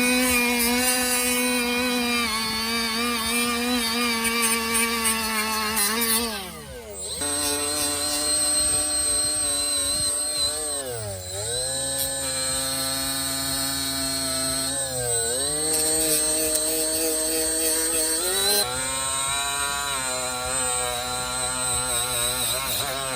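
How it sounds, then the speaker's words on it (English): A Milwaukee M12 cordless angle die grinder runs steadily at high pitch, whining almost continuously with a few brief speed dips and restarts, close and loud. "Angle Die Grinder."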